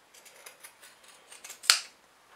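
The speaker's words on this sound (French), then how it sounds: "je vais enlever tout l'excédent de tissu à l'aide de mes ciseaux cranteurs" Pinking shears trimming excess fabric from a sewn zippered crossbody bag, a run of soft quick snips ending in one sharper, louder crunching cut, close up with no talking.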